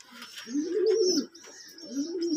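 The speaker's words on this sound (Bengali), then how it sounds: "এগুলো হচ্ছে টেরি, পিওর টেরি কবুতর" Teddy pigeons coo close by, a low throaty rolling coo repeated twice with a short pause, heard alone and fairly loud.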